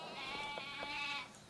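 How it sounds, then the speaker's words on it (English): Sheep in the video game Disney Infinity 3.0 bleat in a quiet, wavering cry that lasts over a second, with faint game sounds beneath. "we've got three sheep, each with a radar marker on it"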